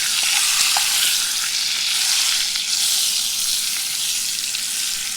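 Brown trout fries in melted butter in a pan, giving a loud, continuous crackling sizzle that carries on steadily without any talk.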